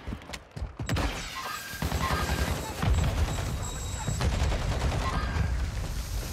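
Gunshots in a ranked Warzone match, a few sharp cracks early on, then a dense, sustained fusillade of overlapping automatic fire, close and loud, with a player's voice faintly in the mix.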